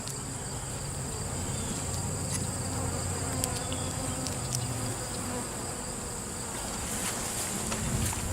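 Honeybees buzz steadily inside an opened hive, a close, continuous hum with individual bees droning past the ear over a low background rumble.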